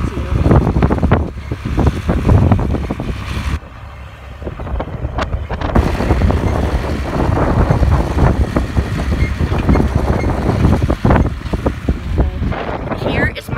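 Strong gusts buffet the microphone at a pumpkin patch on a very windy day, a loud, constant rumbling roar with brief lulls, and a person talks at times.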